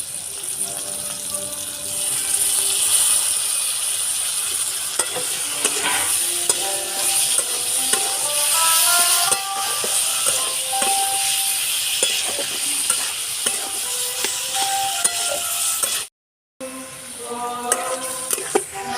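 Chunks of elephant foot yam sizzle in a spiced pan, a steady close hiss punctuated by repeated scraping stirs, with a brief gap before the frying resumes.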